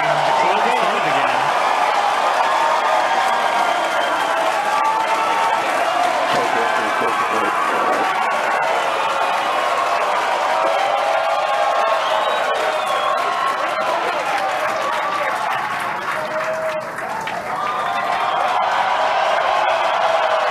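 A large crowd cheers and whoops at a SpaceX Starship launch viewing at Starbase, Texas, a steady loud roar of voices with an announcer talking over it throughout.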